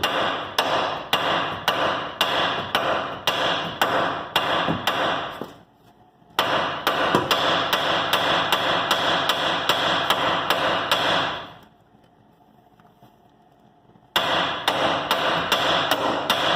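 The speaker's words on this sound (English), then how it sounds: "Then you're going to pound right here with a hammer, and it should just drop right out." Rapid metal hammer blows on a 2014-2018 Silverado control arm knuckle ring out in fast regular strikes, stopping twice for a few seconds before the pounding resumes, loud and close.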